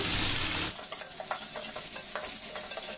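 Carrots, green chillies and beans hit hot oil for vegetable upma with a loud initial sizzle that quickly settles into a quieter fry, marked by light spatula scrapes.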